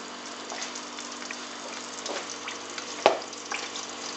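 Flour-dusted fish frying in a pan, a faint, steady sizzle with a few soft pops and one sharper clack.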